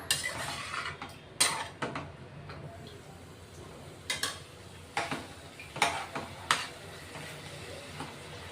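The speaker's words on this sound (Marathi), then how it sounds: "हे पहा, थोडं परतून घेऊ आता." Stuffed ridge gourd curry being stirred in a pan, with a metal spoon clinking and scraping against the pan in scattered taps over a quiet background.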